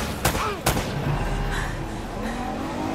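Gunfire in Uncharted: Drake's Fortune: two sharp, loud shots about half a second apart, then a rumbling, busy mix of combat noise that continues behind them.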